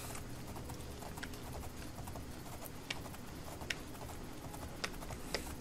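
Horse hooves clip-clopping along a path in the modded video game Oblivion, a quiet steady patter of light hoof strikes with a few sharper accents, no voices.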